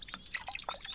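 In the Russian Village Simulator video game, water being drawn makes a quick run of small drips and splashy plinks, faint and close, lasting about a second.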